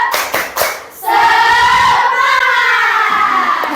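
Schoolchildren perform a tepuk semangat clapping chant in a classroom: a few sharp, rhythmic claps open, then a loud, sustained group of young voices chanting together fills the rest.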